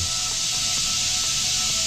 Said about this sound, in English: we'll go ahead and squirt a little water on our mirror